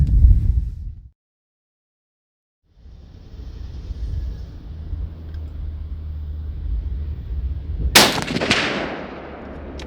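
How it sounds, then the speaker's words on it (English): A single loud crack from a Savage Arms Model 110 rifle in .308 is fired downrange outdoors, cutting sharply through a low rumbling background and trailing off in a brief echo. "So let's put some rounds down range and see how it does."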